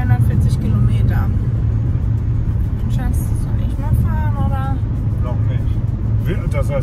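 Steady low rumble of road noise inside a car cruising on the motorway, continuous and fairly loud, with people talking over it throughout.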